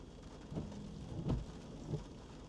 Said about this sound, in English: Some thunder.